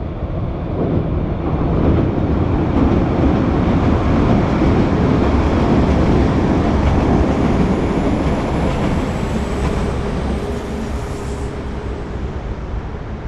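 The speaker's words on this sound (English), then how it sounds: "I booked that train specially." A train crosses a bridge over the flooded River Severn at Worcester, a steady close rumble of wheels and wagons rolling continuously without talk.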